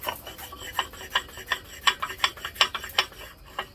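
Quiet scraping strokes of a sharpening stone against metal on a KE100 top end, checking for high spots, repeated in an uneven back-and-forth rhythm, close by with no talking.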